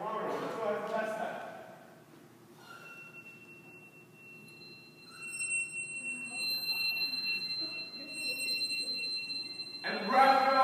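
Metal rods of different lengths ring out as sustained pure tones at several pitches, layered and overlapping in a quiet room, with a person talking before and after.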